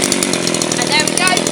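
Petrol strimmer engine starting after a pull on the starter rope, then running loud and close in a steady buzzing drone with slight rises in pitch, a voice heard over it.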